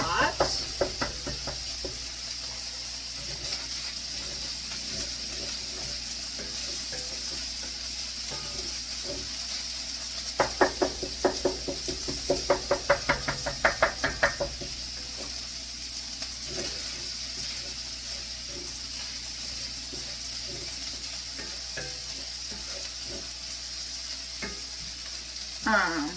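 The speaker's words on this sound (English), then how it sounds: "So I just break up the sausage like a lot." Ground sausage sizzles and fries steadily in a pan, with a spatula scraping and knocking as the meat is broken into small pieces during a big batch cook for freezing; a cluster of sharper clacks near the middle.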